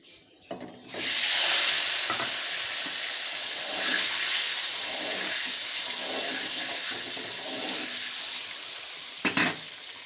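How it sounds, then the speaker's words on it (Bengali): Eggs frying in the oil left from frying potatoes, with salt and turmeric added for an egg and potato curry, give a steady, loud sizzle and hiss that runs almost unbroken through the clip, with no one talking. "দিয়ে ডিমটা ভাজা করে নেব, একটু ভেজে নেব, খুব লাল করবো না, একটু ভেজে নেব।"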